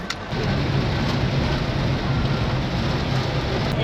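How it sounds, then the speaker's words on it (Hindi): Heavy rain pours steadily and loudly, a dense continuous hiss with a low rumbling undertone lasting throughout, no voices over it. "बहुत तेज बारिश स्टार्ट हो चुकी है।"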